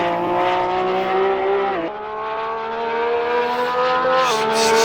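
A Porsche race car engine in the Assetto Corsa racing game drones loudly and steadily at high revs, with a brief dip as it shifts or lifts before climbing again, heard alone without talk.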